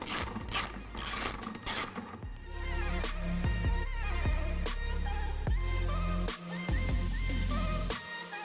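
A ratchet with a 7/8 inch socket works the lug nuts on a Jeep Wrangler JL, giving bursts of quick, close metallic clicks over a steady mechanical whir.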